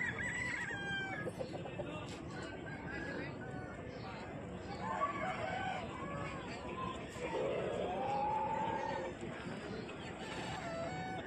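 An Aseel rooster crows once in a long, rising call amid the steady murmur and chatter of a busy rural poultry market in Jhargram, West Bengal.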